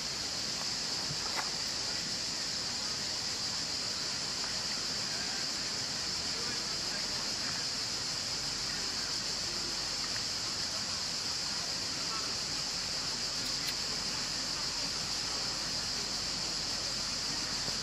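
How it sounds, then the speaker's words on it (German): Steady, broad rushing of the Krka waterfalls in Croatia fills the whole stretch as an even, constant roar without pauses, heard from nearby. "Balu an den Krücker Wasserfällen."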